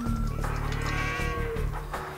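Sheep bleating in the video game Age of Empires II, a few wavering calls close up that repeat over steady game background sound.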